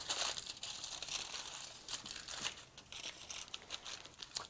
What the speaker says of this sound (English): put it in some tin foil, add just a little bit of olive oil, and then make that into a little pocket like this